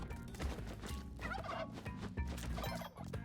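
Several turkeys gobble in a video game, rapid warbling calls overlapping one another in quick bursts over a busy backdrop of game music and effects, with no talking.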